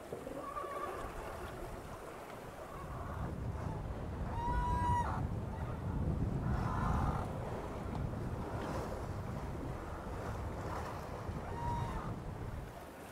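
A 60ft hydrofoil racing sailboat sails in 15-knot wind on fairly flat water with about one-foot seas, giving steady wind and rushing water noise with gusts buffeting the microphone throughout.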